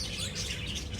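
Birds chirp in a small garden in Oman, a steady dense chatter of bright tweets and calls filling the background without speech.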